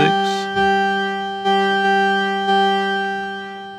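A sustained tone from a Studiologic Sledge synthesizer with steady harmonics, fresh notes entering roughly every second, each trailing off into a lingering reverb wash.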